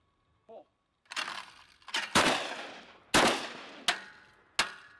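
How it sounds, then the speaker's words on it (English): Several shotgun blasts ring out at flying clay disks outdoors, loud sharp reports spaced about a second apart, each followed by a decaying echo, after a brief faint sound at the start. "I'm gonna shoot the right one first this time."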